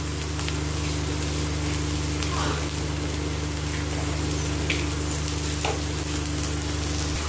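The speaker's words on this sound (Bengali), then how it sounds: "তেল গরম হয়ে গেছে, এরপরে ভেন্ডিগুলো দিয়ে দেবো ফ্রাই করতে।" Okra sizzles and crackles in hot oil in a home kitchen, a steady close frying hiss with a low hum underneath.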